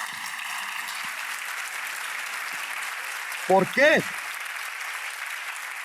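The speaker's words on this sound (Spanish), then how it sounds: "Un aplauso para esas mujeres." Church congregation applause during a sermon, a steady wash of clapping at moderate level, with a brief spoken voice cutting in near the end.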